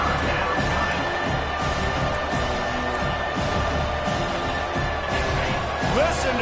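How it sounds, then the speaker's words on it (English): A football stadium crowd roars steadily throughout, a dense wall of cheering and noise from the stands, with a commentator's voice talking over it. "Listen to this crowd just shaking the girders of this place, trying to help their defense."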